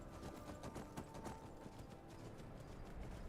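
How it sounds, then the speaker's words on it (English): A horse gallops in the Skyrim video game, its hooves making rapid, rhythmic clip-clop beats that run steadily and quietly throughout, with no talking. "have you heard of Thane Bishop's fast horse"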